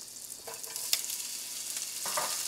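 Sliced onion sizzles steadily in melted butter in a pan for cabbage, a soft continuous frying hiss with a few faint crackles and pops, no talking.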